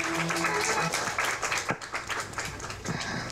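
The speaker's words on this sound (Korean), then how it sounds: "다시 한번 큰 박수 부탁드리겠습니다." An audience claps for the actors of a theatre troupe after a staged reading at a novel's launch concert, dense applause that fades somewhat midway before continuing at a moderate level.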